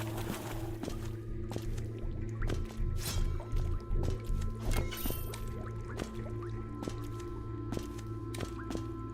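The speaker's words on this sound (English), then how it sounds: "The movement of the water against the turbines makes this quite a serene spot." Gentle water flowing and dripping around turbines in the video game Haiku the Robot, a steady liquid wash with scattered drips and soft clicks, calm and continuous at moderate level with no talk.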